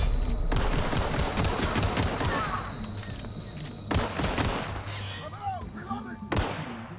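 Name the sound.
gunfire from the video game The Outer Worlds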